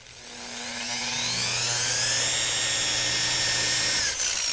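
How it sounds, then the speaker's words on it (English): A rotary polisher burnishes a car's painted panel with a steady, loud, close machine whine that climbs slightly in pitch and then holds level, with a brief dip near the end and no voices. "It's called burnishing the panel."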